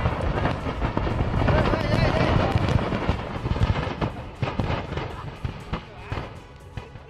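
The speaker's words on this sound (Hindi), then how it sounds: "धमाकों की आवाज और इस आवाज के साथ आसमान में उठता यह धुआं।" Explosions at a firecracker factory in Sattur, Tamil Nadu, heard as dense, rapid crackling bangs and booms at a distance, first a continuous rumbling barrage and then scattered sharp cracks, with a voice speaking over them.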